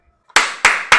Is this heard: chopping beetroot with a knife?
no